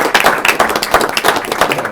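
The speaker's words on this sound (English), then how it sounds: "Round of applause." A round of applause at a city council meeting, a modest group clapping close by in a lively, uneven patter that holds steady and loud throughout.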